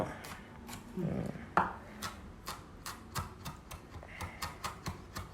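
A knife slices food on a cutting board in a home kitchen in Oman while Thai food is prepared, giving a quiet, steady series of crisp taps after a brief rustle, each cut evenly spaced.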